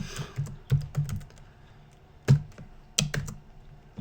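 Typing of a web page's first lines on a computer keyboard: a few scattered keystroke clicks with pauses between them, close by and moderately loud, no voices.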